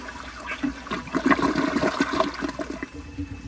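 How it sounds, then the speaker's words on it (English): A 1987 Kilgore Aladdin toilet, once left in an abandoned building, flushes with a loud close rush of swirling water and a siphoning gurgle that builds and tapers over a few seconds, with no talking. "So here is another flush."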